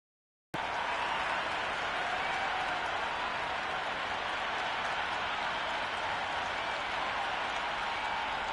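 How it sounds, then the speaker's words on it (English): Steady, dense stadium crowd roar from the cricket video game Cricket 26 during an RCB vs CSK IPL match, a continuous broadband wash of cheering and clapping that starts abruptly and holds at an even level with no voices in front. "The crowd are making a heck of a lot of noise even before the first ball's been"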